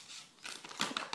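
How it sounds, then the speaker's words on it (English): Envelope of a Valentine's card being torn open, a few short crinkly paper rips and rustles close up, with brief soft handling between them. "It's a little sticky. There you go. Rip it open."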